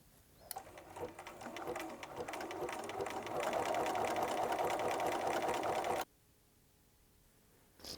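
A sewing machine stitches the closing end of a buttonhole, a close, steady mechanical whir that builds and runs for several seconds, then cuts off abruptly into quiet with a faint click at the end.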